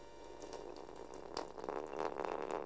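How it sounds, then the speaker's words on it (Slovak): Water sprayed from a hose in a 1984 Slovak animated film, a steady broadband hissing gush that swells louder toward the end, with no voices. "Vyplavím ťa vodou."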